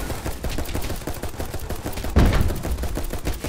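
Rapid gunfire in the Roblox game Giant Survival rattles on continuously in quick, evenly spaced shots, with a heavier burst near the middle, loud and close.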